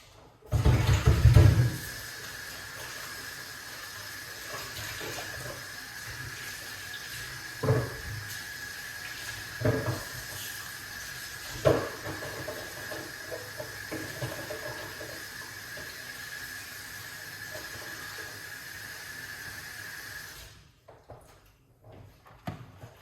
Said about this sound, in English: All right, let's rinse them off, guys.